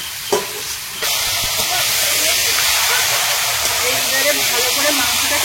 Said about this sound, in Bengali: কড়াইতে তেল দিয়েছি আর এখন এই মাংসটা দিয়ে দেবো।